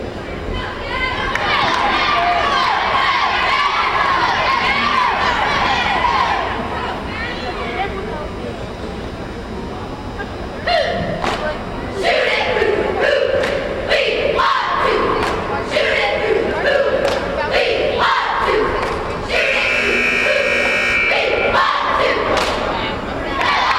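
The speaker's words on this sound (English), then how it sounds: "NAC varsity cheering squad warming up for tomorrow's" A high school varsity cheering squad (NAC) warms up in a gym during a timeout at a boys basketball game, with loud, continuous shouted chants, crowd noise and scattered thumps from start to finish.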